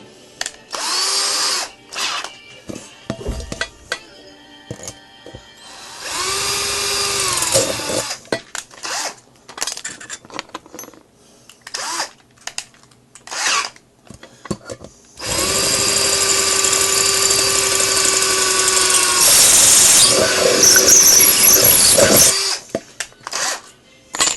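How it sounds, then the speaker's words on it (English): A power drill whines in repeated bursts, short at first and then long, sustained runs as progressively larger bits bore through material for a gasification burner, loud and close. "Small drill bit up to big drill bit."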